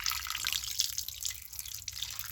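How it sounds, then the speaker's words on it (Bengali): Fish being washed by hand in water give continuous close splashing and sloshing with bright drips and trickles, steady and moderately loud. "সব মাছগুলো আমার একে একে ধোয়া হয়ে গেল।"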